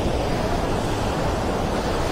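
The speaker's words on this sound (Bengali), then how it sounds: "ঝর্ণার জোর দেখো, স্পিড দেখো" Kanchenjunga Falls in Sikkim, a powerful waterfall in full flow, pours with a loud, dense, unbroken roar, close up and without any voices.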